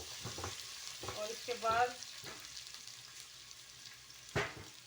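Crushed garlic, ginger and green chilli, pounded in a mortar, sizzle in hot oil for bondi kadhi. Intermittent frying crackle and stirring scrapes come with a couple of louder bursts, and someone speaks briefly.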